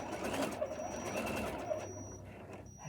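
Sewing machine stitching bias tape onto the curved hem of a shirt, a close, steady rapid mechanical whirring with a few small clicks and brief slowdowns near the end.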